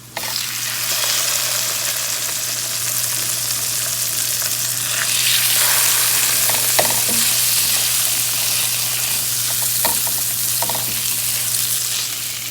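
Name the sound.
garlic frying in a pan until caramelized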